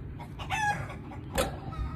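Chicken clucking mixed with rooster crowing, a couple of short squawky calls close up over a noisy farmyard background.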